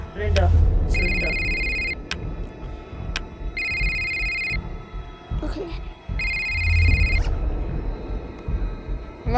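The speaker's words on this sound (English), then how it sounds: "Oh, my phone rings." A mobile phone ringtone rings in a video game, repeating in three clear electronic bursts with short pauses between them, over a rumbling game background while someone talks.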